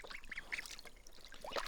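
Ducks on water with faint, short quacking calls scattered through a low wash of splashing and background noise, no voices.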